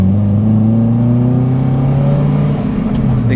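A Honda Element on a test drive after a clutch master cylinder upgrade, its engine holding a steady loud drone with rising tonal hum as it accelerates, close and continuous with no talking.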